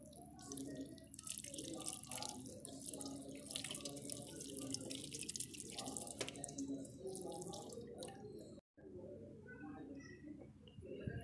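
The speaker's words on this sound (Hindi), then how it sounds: "अब मैं गर्म पानी लाके ये वैसलिन पूरा हटा रहा हूँ।" Hot water poured over a rusted car battery terminal to wash away vaseline, a continuous splashing and dripping stream, close and fairly loud, with a brief break before it resumes.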